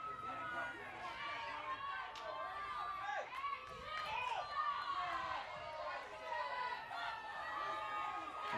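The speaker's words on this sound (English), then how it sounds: "And the crowd is not happy here." Softball crowd at a college game between Tampa and Rollins gives off a restless mix of overlapping voices, shouts and murmurs that rise and fall around a confused moment on the field.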